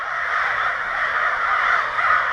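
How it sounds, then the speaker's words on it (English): Dense chorus of many crows cawing at once, loud and continuous, a harsh overlapping wall of calls with no pauses, outdoors during work on a motorcycle taillight. "How many goddamn crows are there?"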